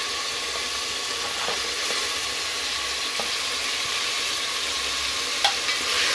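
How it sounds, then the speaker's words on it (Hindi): Mutton pieces fry in hot oil with browned onions for a Moradabadi biryani over a high flame, giving a steady close sizzle with a few faint clinks and stirring scrapes. "अब मैं इसमें जो है सारा जो गोश्त था वो डाल दूँगी"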